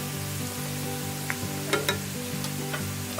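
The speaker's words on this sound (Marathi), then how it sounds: "पतले पोहे थोडेसे भाजून घेऊया" Thin poha flakes with turmeric roast in a pan, a quiet, steady crackle under a constant low tonal hum, with a few light scrapes and ticks from stirring near the middle.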